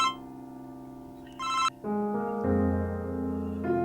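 Telephone ringing indoors, a bright electronic ringtone melody with shifting tones playing continuously, clear and close with no voices.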